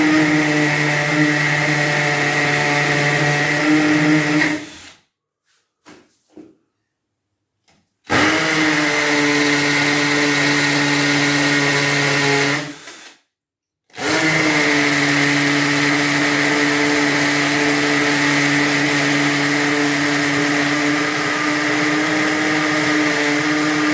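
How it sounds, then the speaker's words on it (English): A power drill boring holes while new electrical outlets are added whines steadily in long runs, stopping briefly between holes before spinning up again, loud and close. "Holes are drilled."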